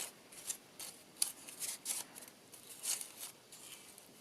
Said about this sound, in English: Sometimes I snip them off